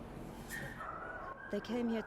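Dogs and puppies at a dog market where illegally traded puppies are sold: a few short yips and whimpering barks near the end over a murmur of background noise and a faint whining tone.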